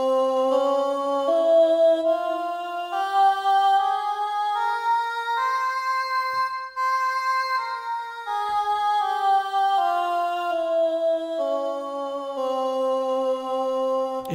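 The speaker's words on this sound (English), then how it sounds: "It sounds like this, and this is the Maqam Hijaz scale," An Eastern Voices synth plays the Maqam Hijaz scale step by step up and then back down, smooth sustained reedy notes flowing continuously, close and alone.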